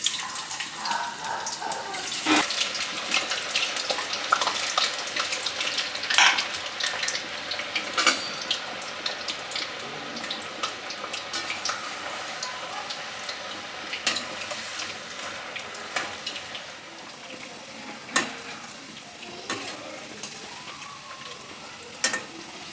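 Potato finger chips frying in oil in a home kitchen make a continuous bright sizzle with scattered pops and occasional clinks, steady and close, with no talking.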